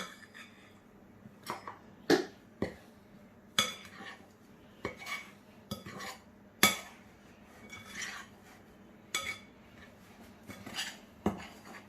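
Pasta bake being stirred in a pot, with a spoon clinking and scraping against the metal in irregular bursts, some sharp and loud, over a low kitchen hum with no talking.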